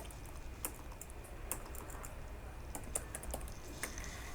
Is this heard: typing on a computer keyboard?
yes